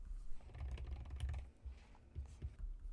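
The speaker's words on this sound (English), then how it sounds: "I'm going to type in soulmate, and I'll just hit enter on my keyboard" Typing on a computer keyboard while setting up a Cricut Valentine's Day project, with soft irregular key taps in bursts, close and fairly quiet, and a pause about halfway through.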